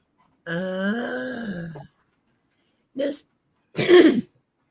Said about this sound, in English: I don't get the cute sneezes. I get the ick cough.